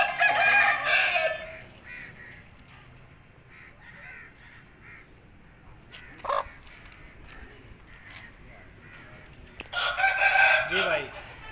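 An Aseel rooster crows in short bursts at the start and near the end, close and fairly loud, with quieter rustling and faint background noise between them.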